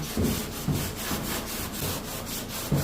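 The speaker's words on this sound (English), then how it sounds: "so this is with clean sandpaper, dry." Clean dry sandpaper rubbed by hand over a car body panel, giving rhythmic back-and-forth rasping strokes, close and fairly loud, with no one speaking.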